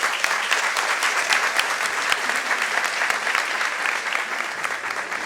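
An audience claps steadily to welcome a guest speaker to a talk, a continuous roomful of hands with individual sharp claps standing out close by, holding an even level throughout.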